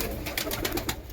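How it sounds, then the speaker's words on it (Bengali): Pigeons gather close by to drink vitamin-mixed water, giving a few soft coos and light fluttering movements, faint and brief. "আমি এখন এই ভিটামিন মিশ্রিত জল আমার পায়রাদের খাইয়ে দেখাচ্ছি আপনাদেরকে"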